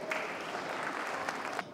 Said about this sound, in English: Give Lisa a round of applause